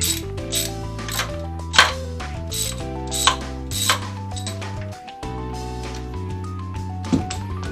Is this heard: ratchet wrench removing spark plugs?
yes